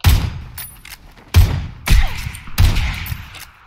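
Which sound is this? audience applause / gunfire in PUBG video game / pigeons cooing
gunfire in PUBG video game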